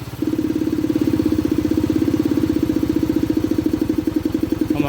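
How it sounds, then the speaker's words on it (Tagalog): A Kawasaki Rouser NS125 motorcycle engine idles nearby with a rough, even chug for several seconds, then cuts out and stalls as though starved of fuel. "Nag-start na. Kaso namatay uli na parang walang gasolina."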